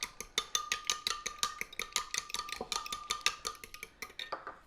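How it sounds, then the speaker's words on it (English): A whisk beats milk and eggs together in a bowl, fast, steady metallic clicks and scrapes repeating in an even rhythm, close and fairly quiet, slowing toward the end. "I'm just going to gently whisk those together."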